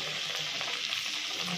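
Palm-fruit fritters sizzle in hot oil in an iron wok, a steady, close crackling hiss with no voices.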